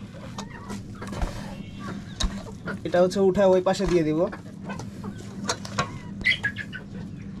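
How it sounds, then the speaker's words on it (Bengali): Chickens of several breeds in a rooftop coop in Kushtia cluck and call close by, with a run of louder, drawn-out calls midway, while a person talks over them throughout. "আর এই পাশে আলাদা কিছু জাতের মুরগি।"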